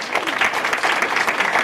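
An audience at an academic lecture on Jewish Studies at USF breaks into dense, steady applause that fills the whole short stretch at an even level, with no voices on top.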